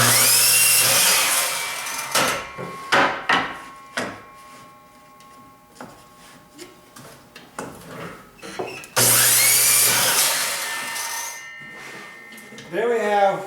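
Power saw rough-cutting wooden stiles and rails for a flat panel cabinet door, two loud cutting bursts separated by clattering handling of the boards, with some speech in between.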